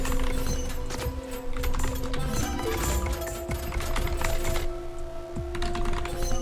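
A computer keyboard clatters in quick irregular keystrokes while playing the typing survival game Glyphica, over steady tonal game music and occasional game effects, with no talking.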